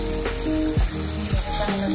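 Chopped tomatoes hit hot oil and spices in a pan for aloo palak, giving a steady, loud close sizzle with a few stirring scrapes and no one talking.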